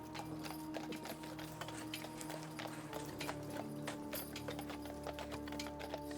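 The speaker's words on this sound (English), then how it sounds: "you clatter your way down the streets to 7 Park Lane" Horse hooves clattering on a street in a steady clip-clop, faint and fairly distant, with no voices over them.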